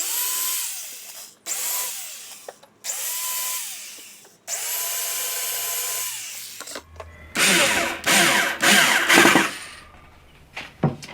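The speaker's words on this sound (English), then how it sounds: "We'll pre-drill." Bursts of a power drill whining in several short runs with pauses, then louder, rougher drilling as the bit pre-drills into wood, close by.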